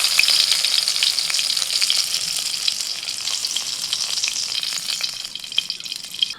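Chopped tomato with salt and turmeric frying in oil in a wok gives a steady, moderate sizzle with faint crackles and occasional stirring scrapes throughout.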